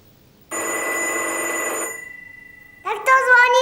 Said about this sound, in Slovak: Tak to zvoní telefon.